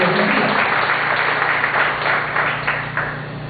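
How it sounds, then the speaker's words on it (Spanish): A church congregation applauds during a Spanish-language sermon at a worship conference, steady dense clapping filling the hall for several seconds and tapering slightly near the end. "Denle un aplauso que usted lo cree"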